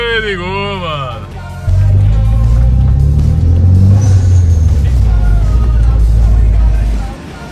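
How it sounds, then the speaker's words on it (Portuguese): A voice talks briefly before an Eclipse car engine cranks and catches, settling into a loud, steady idle rumble close by that drops away near the end. "Agora vamos ver se o Eclipse vai ligar de primeira"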